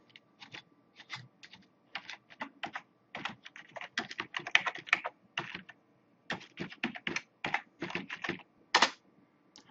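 Rapid, uneven keystrokes on a computer keyboard while Python code is typed, clicking in short bursts with brief pauses, close and clear, no speech.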